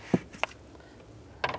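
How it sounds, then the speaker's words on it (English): A 7mm socket works panel screws loose beneath the glove box of a 2002-2009 Chevy Trailblazer, heard as a few sparse metallic clicks and clinks close by, with quiet gaps between them. "take these screws out, use a 7mm socket."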